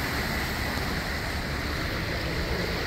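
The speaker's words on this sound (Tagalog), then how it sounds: "Lakas ng agos ng tubig." Strong water current rushes beneath a bridge at Flatts Village, Bermuda, making a dense, continuous broadband roar with no pauses.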